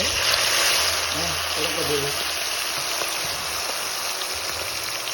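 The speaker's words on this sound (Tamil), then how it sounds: "இப்போ நாங்கள் பொறிக்க போகிறோம் இங்கே நல்லா எண்ணெய் கொதிச்சிட்டுது" Marinated chicken fries in hot oil with a constant, dense sizzle, while a voice talks briefly over it near the start.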